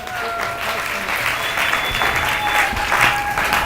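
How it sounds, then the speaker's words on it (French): Loud, sustained clapping from a French-speaking church congregation applauding for the Lord during a sermon, with a sustained tone running through it and occasional louder bursts. "Applaudissez très fort pour le Seigneur"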